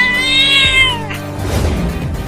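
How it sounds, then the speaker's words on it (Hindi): A cartoon cat gives one long, loud, drawn-out meow that rises then falls, followed by a shorter rougher cry and a soft noisy tail, heard up close with no talk. "अरे वाह, एक छोटी और मोटी बिल्ली"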